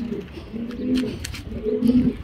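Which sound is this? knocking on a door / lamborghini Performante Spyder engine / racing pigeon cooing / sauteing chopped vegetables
racing pigeon cooing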